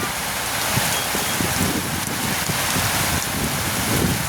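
Steady rain falling, a dense even hiss of drops with soft patter on surfaces, continuous and moderately loud with no voices.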